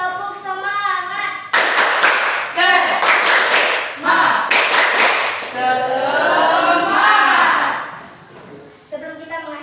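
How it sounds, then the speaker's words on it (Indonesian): A class of students performing a rhythmic spirit clap, bursts of sharp group hand claps in patterned rhythm alternating with chanted voices, fairly close and loud. "Tepuk semangat."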